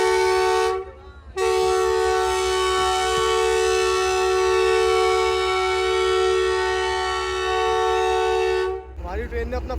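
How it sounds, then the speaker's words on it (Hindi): The Shah Hussain Express locomotive sounds a departure whistle at a station for its Karachi to Lahore run: one long, loud, steady blast of about eight seconds, close by, before station noise returns. "हमारी ट्रेन ने अपना फर्स्ट डिपार्टिंग विसल दे दिया है"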